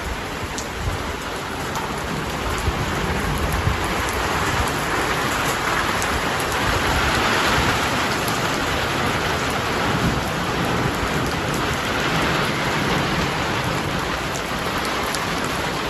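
Steady, heavy rain with wind pours down continuously over a vegetable garden, a dense hiss of drops on surfaces with a low rumble beneath, no voices.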